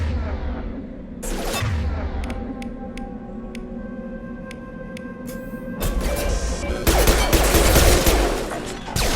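Gunfire in the sci-fi shooter Mass Effect 2: rapid sci-fi weapon bursts with sharp individual shots, sporadic at first and then building into heavy, sustained firing, loud and near over a low rumble.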